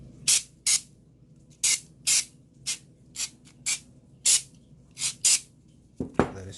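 Gun cleaner is sprayed onto a Glock pistol in about ten short, sharp aerosol bursts at an uneven pace, close and clear against a quiet room.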